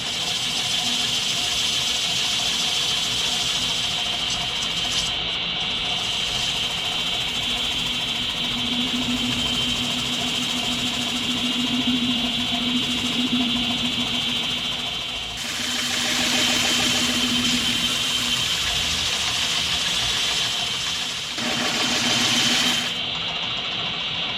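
A wood lathe spins a 16-inch chip and dip platter, its steady motor drone running continuously and loud throughout with slight shifts in pitch, no talk over it.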